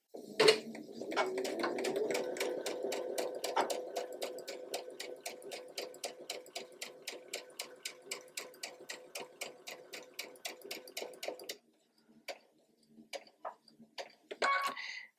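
Sewing machine stitching a quilt block along a fabric edge beside a pin, a steady run of rapid needle clicks that slows into separate thumps, pauses, then gives a few short bursts at the end.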